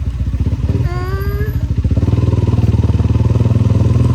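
A motorcycle rides fast, its engine loud and close with a rising whine as it shifts, then settling into a steady pulsing drone; no speech over it.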